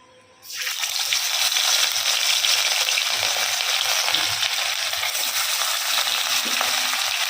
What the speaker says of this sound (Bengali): ওদিকে মাছ ভাজাটা বসিয়ে দিয়ে